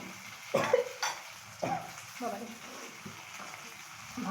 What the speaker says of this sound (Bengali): ভাজা প্রায় কমপ্লিট